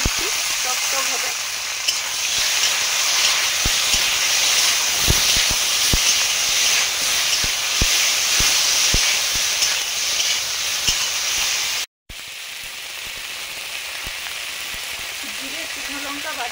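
Tomatoes fry in hot oil for a Bengali amedi fish curry, giving a loud, steady sizzle with occasional sharp clicks of stirring and a brief cut near the end.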